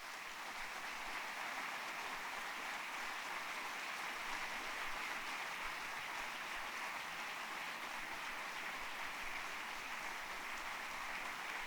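Steady, fairly quiet applause from an audience welcoming two speakers, Laura and Alexandra, to the stage, a dense even wash of clapping with no talking.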